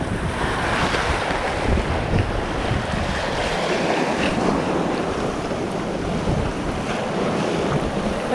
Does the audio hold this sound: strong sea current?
yes